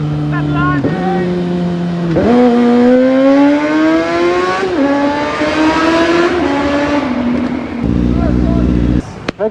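Motorcycle revving hard inside a tunnel, the engine note climbing and falling through loud rising sweeps that echo off the walls, then dropping to a low idle at the end, with people talking and cheering over it.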